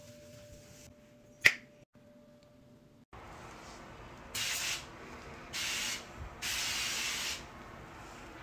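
Spray Away cleaner is squirted in three short hissing bursts from a spray bottle during house cleaning, each about half a second to a second long and close to the mic, after an earlier sharp click.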